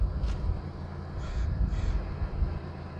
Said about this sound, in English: There's a lot of crows.